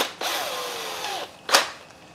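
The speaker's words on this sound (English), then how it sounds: "I'm going to drill a big hole right here." A power drill whirs steadily for about a second, pitch sliding as it bites in to bore a big hole, then stops; a short sharp burst follows after a brief pause.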